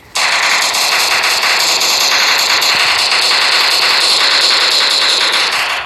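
Rapid gunfire from the video game Prop Hunt Portable, a dense, loud rattling burst of repeated shots running steadily for several seconds with no talk over it.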